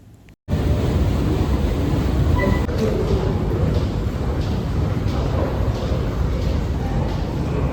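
A train roars through a Stockholm metro station after a brief quiet moment, a loud, continuous rumble with rhythmic clatter that holds steady to the end.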